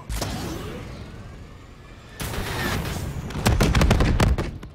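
Hellstorm missile strike in Call of Duty: Black Ops 3: a rumbling blast erupts, then a cluster of sharp, loud explosive bursts hammers in close succession before fading, with no voices.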